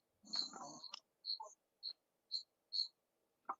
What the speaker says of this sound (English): I hear that cricket loud